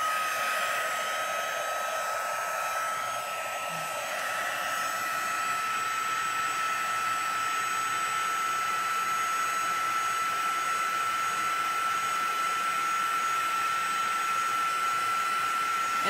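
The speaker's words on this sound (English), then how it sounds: "I'm going to just lightly hit this with the heat tool just to kind of slightly dry it" A heat tool runs steadily to dry shimmer resist on glossy cardstock, giving a loud, continuous whirring blow with a high whine that holds unbroken throughout.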